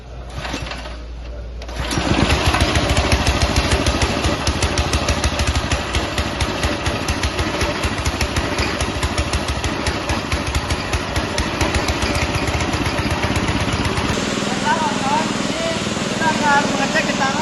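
A small gasoline compressor engine fed from a gas cylinder through its carburetor, quiet at first, then starting abruptly and running with a loud, steady, fast chugging rattle, settling slightly lower near the end.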